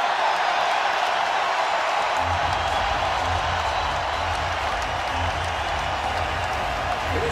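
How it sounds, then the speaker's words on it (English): Home crowd at a Creighton men's basketball game in Omaha, hosting Seton Hall, keeps up loud, sustained applause and cheering across the arena, with scattered whoops and a low rumble that builds after the first couple of seconds. "And the crowd alive in Omaha."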